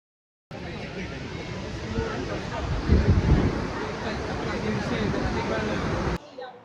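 Thoseghar waterfall in full monsoon flow gives a steady, loud broadband roar mixed with wind buffeting on the microphone, swelling briefly in the middle and cutting off near the end.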